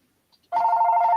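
An indoor telephone starts ringing after a short quiet pause, its steady electronic ring loud and close, with no talk over it.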